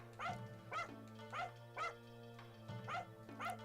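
A Shiba dog barks in a video game, a steady series of six short, evenly spaced yaps over a constant low electronic hum, sounding synthetic and moderately quiet.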